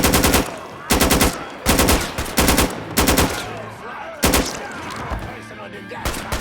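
Gunfire in the Mafia III video game, repeated loud bursts of automatic shots separated by short pauses, with voices and scattered impacts between bursts.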